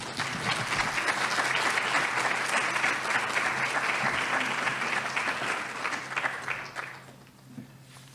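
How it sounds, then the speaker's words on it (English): Audience applause at a college food security summit, a dense sustained clapping from a seated crowd lasting several seconds before tapering off, with no speech over it. "Let's give a round of applause for Mr."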